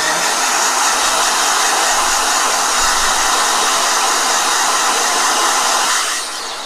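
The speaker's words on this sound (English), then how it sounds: "Hold on, blow dry." A hair dryer blow-dries a watercolor painting with a loud, steady, close whooshing roar that runs unbroken and drops slightly at the very end, with no talk.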